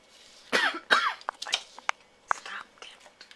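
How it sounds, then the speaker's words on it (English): A person behind the camera coughs twice in close, sharp bursts, followed by a few softer throat clicks and small mouth noises in a quiet kitchen. "The camera person had a little problem with the cough"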